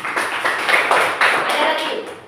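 A small group claps briefly at an Indonesian training session, several quick bursts of close hand claps that come and go over about two seconds.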